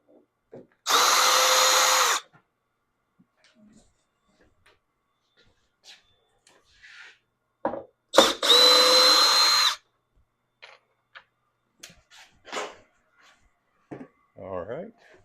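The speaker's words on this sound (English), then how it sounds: "Get these couple screws out of here." A power drill backs screws out of a CNC tiling setup in two short, loud whirring bursts a few seconds apart, with brief talk and small handling noises between them.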